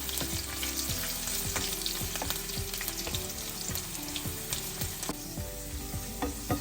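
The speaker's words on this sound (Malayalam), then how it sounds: "അതിനകത്തോട്ട് നമുക്ക് ഇഞ്ചിയും വെളുത്തുള്ളിയും കൂടെ ഇടാം. അത് കൂടെ ഒന്ന് ചെറുതായിട്ട് മൂത്ത് വരും." Ginger and garlic frying in oil with browned coconut for a clam meat stir-fry, a loud, dense, continuous sizzle close up with rapid crackling pops throughout.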